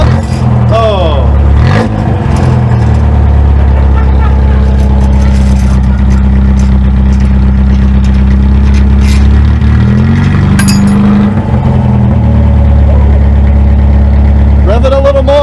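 A 1980 Toyota Corolla with the 3TC engine runs loud and steady throughout, with its idle swelling into short revs near the start and again around the middle before settling back, while voices talk over it.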